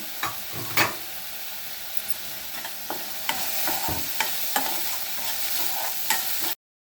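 Tomatoes, turmeric, chili powder and garam masala are stirred in a hot pan for ragda chaat: a steady, close sizzle broken by scraping spoon strokes and clacks, with no talking.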